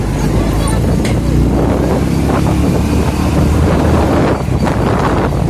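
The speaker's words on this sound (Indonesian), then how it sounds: "Nah, kita cobain agak gas nih tenaganya." A restored 2002 Honda Legenda motorcycle is ridden and throttled up, its engine droning loudly beneath heavy, constant wind buffeting on the microphone.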